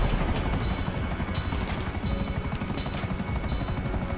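Savage attack helicopter in a GTA video game, its rotor thudding in a dense, steady beat with a loud buzzing engine whine, continuous and close, with no talking.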